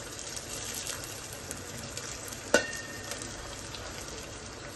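Ginger pieces frying in hot oil for upma give a soft, steady sizzle with one sharp clink near the middle, alone with no talking.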